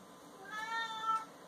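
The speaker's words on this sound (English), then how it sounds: "The cat's in the other room whining, going back and forth." A house cat whines with a single drawn-out meow, faint and from another room, rising and falling in pitch over about a second.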